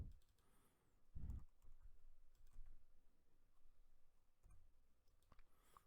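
Quiet clicks of typing on a computer keyboard, a short burst of keystrokes followed by scattered single taps, heard close and alone.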